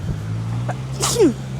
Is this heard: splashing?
no